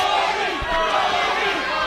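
Steel cage wrestling match between Abyss and Brodie Lee, with a dense arena crowd roaring and chanting steadily in support of Brodie Lee, a continuous loud wash of voices with shouts rising out of it.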